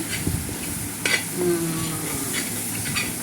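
Close-up stirring of chicken masala in a hot pan: a spoon scraping and tapping over a low continuous sizzle, with a few sharper knocks.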